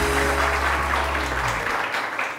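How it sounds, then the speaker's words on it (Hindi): Studio audience applause on a Hindi-language TV morning show, a steady wash of clapping held at an even level throughout, with a low hum underneath that cuts off partway. "तो तालियां तो बजाया आता है।"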